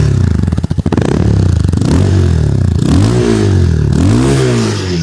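A Bajaj Pulsar 220 motorcycle engine, about eight months old, idles with a loud, close, rapid clatter, then revs up and down several times in rising and falling sweeps.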